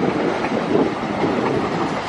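Locomotive 9501 hauling a train past in the rain, a steady close rumble of wheels and rail noise with faint clatter, loud and continuous without voices.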